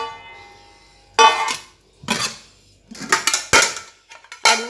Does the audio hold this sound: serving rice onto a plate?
yes